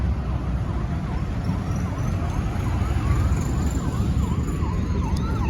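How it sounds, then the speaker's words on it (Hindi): An ambulance siren wails on the Delhi-Mathura highway NH2 near girder-launch works, its repeating up-down sweeps loud over heavy, constant traffic and engine rumble. "ये एक एम्बुलेंस आ रही है यहाँ से"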